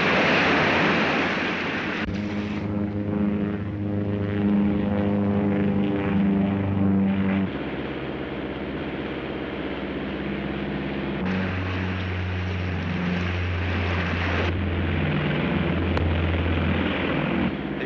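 Propeller airplane engines drone steadily in flight, a loud, continuous multi-engine roar with shifting pitch throughout, heard from inside the aircraft with no voices.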